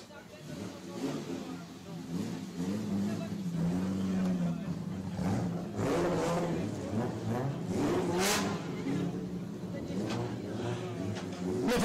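A BMW rally car pulls up to the start podium of the Rallye Lyon Charbonnières historic event, its engine revving and burbling at moderate distance beneath a French announcer's running commentary and crowd noise.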